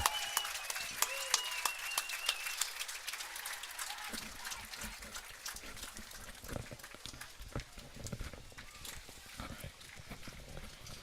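Steady applause from a large crowd at a high school football game, a dense patter of clapping heard from a distance that carries on throughout without a break.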